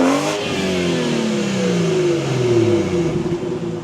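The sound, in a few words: BMW 440i with catless downpipe and stage 2 tune revving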